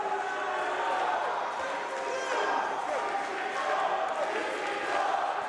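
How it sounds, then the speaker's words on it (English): Wrestling arena crowd at an MLW event, a dense, steady roar of many voices sustained throughout with no break, loud and close-filling. "Oh, but the roar of the crowd"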